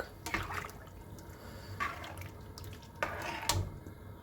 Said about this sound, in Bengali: দিয়ে দিলাম গরম জল জলটা এবার ফুটুক